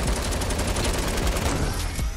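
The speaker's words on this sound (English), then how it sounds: "He's trying to shoot an LMG" Light machine gun fire in a video game: a loud, continuous rapid burst of shots that stays dense from start to finish.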